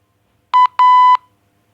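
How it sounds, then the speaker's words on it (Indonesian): Morse code for the letter A played as clean electronic tones: one short beep followed by one longer beep, loud and clear against silence. "contoh dari sandi Morse A. Oke, saya contohinnya pakai bunyi ya"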